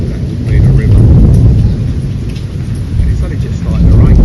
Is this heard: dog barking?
no